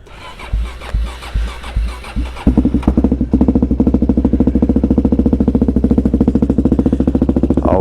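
Suzuki DRZ400SM motorcycle, unridden for a couple of months and with a weak battery, cranks with a few uneven turns, then catches and settles into a loud, fast, steady close-up idle.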